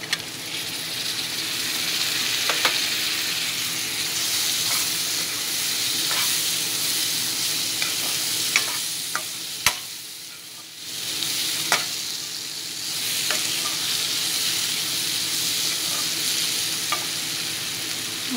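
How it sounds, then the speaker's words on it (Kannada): Eggplant bharta frying and being stirred in a pan, giving a continuous close sizzle with occasional light clicks and scrapes of the spoon against the pan, steady throughout with no talking. "ಸ್ವಲ್ಪ ಒಂದು ನಿಮಿಷ ಫ್ರೈ ಮಾಡ್ಕೊಳ್ಳೋಣ ಇದನ್ನು."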